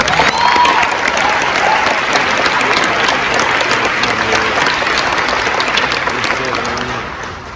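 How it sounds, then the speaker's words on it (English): A crowd at a community event breaks into loud, dense applause, sustained clapping filling the room and tapering slightly toward the end. "Give them all a round of applause."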